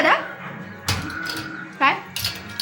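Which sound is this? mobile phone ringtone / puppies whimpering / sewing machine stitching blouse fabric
puppies whimpering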